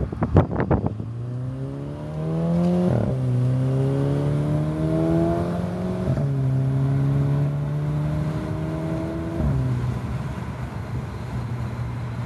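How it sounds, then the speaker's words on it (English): A stage 2 tuned Volkswagen GTI Mark 5 engine accelerates hard through several gears, each rising whine cut by a sharp shift, loud and close with no talk. "Get to hear some of that stage 2 acceleration here."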